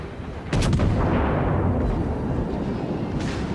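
A naval artillery salvo booms in World of Warships, a sudden loud blast followed by a long rumbling tail and a few scattered secondary reports.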